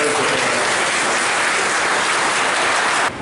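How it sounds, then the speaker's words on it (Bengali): Students give the minister a round of applause, a loud, even roar of many hands clapping that continues steadily and then cuts off abruptly at the end. "আমি ছাত্রছাত্রীদেরও বলবো মাননীয় মন্ত্রীকে একবার করতালির মাধ্যমে উৎসাহিত"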